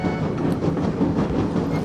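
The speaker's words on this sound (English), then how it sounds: "So the train left the station without Nurse Nancy." A steam train pulls out of a station with a steady rumbling, rolling rush, loud and continuous with no voices.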